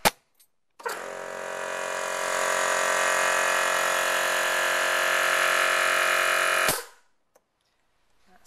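A compressed-air nail gun runs with a loud, steady whine as nails are driven into a wooden beehive super, the noise holding for several seconds before stopping abruptly.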